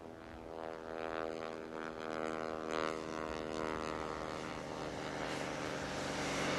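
A propeller-driven plane approaching to land on skis on snow in Alaska, its engine droning steadily at moderate distance and swelling slightly louder as it nears.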